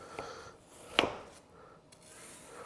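Knife slicing down through a watermelon, heard as quiet, soft rubbing and scraping with one sharper crunch midway and a faint tail of cutting afterward, with no talk.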